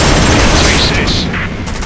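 Heavy gunfire in a combat video game rattles on loud and dense for the whole stretch, a continuous barrage of shots and blasts with a slight easing toward the end.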